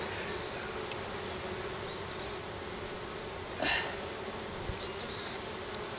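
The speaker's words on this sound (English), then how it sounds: "there are a lot of bees here" Honeybees swarm around an opened hive box, a dense steady buzzing close by, with a few individual bees droning past and brief handling knocks.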